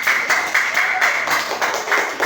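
A classroom group of students applauding a poster presentation, a short burst of dense clapping in waves, loud and close, over about two seconds.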